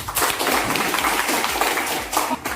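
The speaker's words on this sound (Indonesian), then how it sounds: "Tepuk tangan dulu sebelumnya." Dense, steady applause from a classroom audience during a teacher-training lesson, filling the whole short stretch at an even level with no voices standing out.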